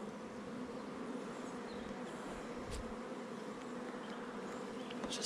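Honey bees buzzing around a small spring nucleus hive, a steady dense hum of many wings close by with a few louder passes near the end, no talking.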